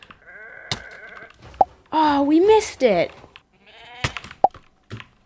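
Minecraft goat bleats, a couple of wavering cries in quick succession midway, mixed with sharp game clicks and knocks while a person briefly talks.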